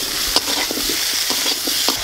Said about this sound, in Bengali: কেটে রাখা আলু আর ঝিঙে ফোড়নের সাথে ভেজে নেব